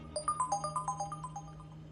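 A phone ringtone plays a quick series of bright electronic tones over a low steady hum.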